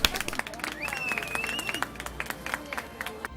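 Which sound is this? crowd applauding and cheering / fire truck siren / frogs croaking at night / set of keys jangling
crowd applauding and cheering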